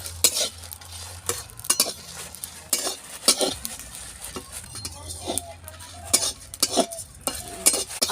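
Cumin, coriander and fennel dry-roasting in a pan for plum pickle, with a soft sizzle under repeated sharp scrapes and clinks of a spoon stirring against metal, close by, a voice talking at intervals.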